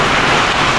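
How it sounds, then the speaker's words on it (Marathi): Heavy rain pours down at a farmhouse, a steady dense hiss of downpour filling the whole short moment without pause. "प्रँक पावर लागले फुल पाऊस चालू"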